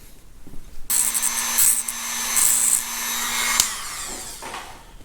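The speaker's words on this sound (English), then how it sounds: "Dremel off the peened over end of the pin" A Dremel rotary tool grinds off the peened-over end of a steel pin on a Caterpillar D2 crawler tractor, a loud close whine starting abruptly, holding for nearly three seconds with a shrill tonal edge, then cutting off.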